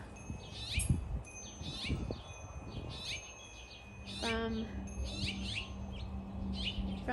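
Young birds chirp around a nest tucked in a wreath, giving repeated high, thin calls in short clusters with a soft background hum, while a voice speaks briefly under them.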